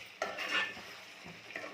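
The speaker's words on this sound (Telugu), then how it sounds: "ఒకసారి కలుపుకుంటున్నాం మధ్యలో." A spoon stirs curry in a metal cooking pot, soft scraping and clinking strokes close up at a moderate level, with faint sizzling underneath and no talk.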